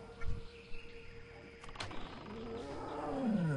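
A tiger roars in World of Warcraft, a deep growling roar rising toward the end amid game ambience, with faint bird chirps and game sounds earlier in the clip.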